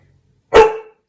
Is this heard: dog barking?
yes